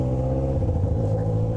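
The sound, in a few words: motorcycle engine revving on the avenue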